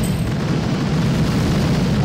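Artillery barrages and cannon fire from a strategy video game form a dense, continuous low rumble of overlapping explosions, loud and sustained with no clear gaps between blasts.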